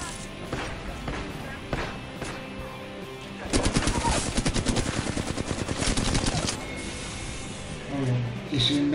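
Gunfire in the video game Apex Legends crackles through a busy mix, with single shots early and then a rapid automatic burst of several seconds, followed by scattered shots under game sounds and brief voices.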